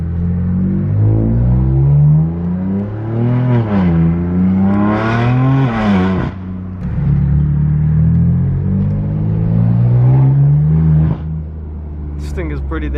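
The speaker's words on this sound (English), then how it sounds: "I'll also get a clip of the exhaust because it sounds pretty good." A loud BMW F82 M4 revs up and down in rising and falling swells, with a steady deep exhaust rumble between the revs.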